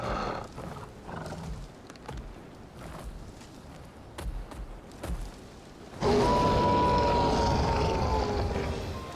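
A big wolf creature in the Wild Hearts video game lets out a loud, sustained roaring howl in a snowstorm, bursting in strongly after several seconds of quieter wind and ambient rumble.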